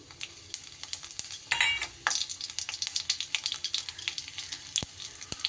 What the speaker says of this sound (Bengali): ফোড়নের জন্য দিয়ে দিচ্ছি আমি একটা তেজপাতা, আর দিয়ে দেব দুটো শুকনো লঙ্কা।